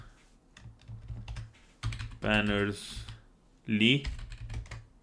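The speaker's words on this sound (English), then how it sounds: "I think that's how you type." Computer keyboard typing, a rapid run of small close clicks that continues under and between bursts of someone speaking.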